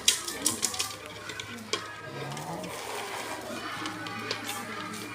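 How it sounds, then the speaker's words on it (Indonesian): Seasoning is stirred in a pan while egg-coated peanuts are made, with a few sharp scraping clinks at the start and then a steady sizzling, bubbling texture up close. "Aduk sampai meleleh"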